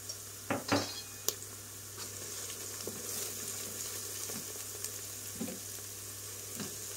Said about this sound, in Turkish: Şöyle onları da harmanlayayım, karıştırayım.